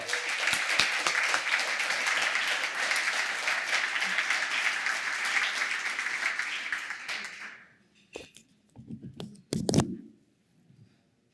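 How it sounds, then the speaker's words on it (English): An audience at the Bike Walk CT 2024 annual dinner applauds in a dense, steady wash of clapping for about seven seconds. It then fades out, leaving a few brief, faint knocks and rustles. "Big round of applause"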